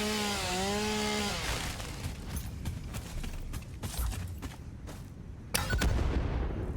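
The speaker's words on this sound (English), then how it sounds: "so it's chainsaw instead" A chainsaw cuts down a tree in the factory-building video game Satisfactory, a brief rising engine whine at the start giving way to a run of rapid crackling, chopping hits and a louder burst near the end.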